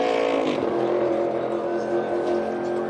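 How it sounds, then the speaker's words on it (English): A NASCAR Cup Series race car at a Toyota Owners 400 event roars loudly and continuously through a burnout, its engine note sustained and droning throughout. "It's a half a lap of burnout right there."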